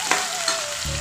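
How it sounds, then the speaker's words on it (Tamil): Onion, ginger and garlic sautéing for a cauliflower gravy, a close, steady sizzle with a couple of quick stirring scrapes over a short moment. "இப்போ நம்ம வெங்காயம், இஞ்சி பூண்டு எல்லாத்தையும் சேர்த்து வதக்கலாங்க."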